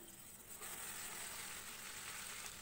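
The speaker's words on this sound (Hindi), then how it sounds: "जैसे हमारा तेल गर्म हो जाएगा हम इसके अंदर मैरिनेटेड चिकन डाल देंगे" Marinated chicken hits hot oil in a pan over a high flame, giving a steady bright sizzle that swells a little after the first half-second and holds, close and fairly quiet, with no voices.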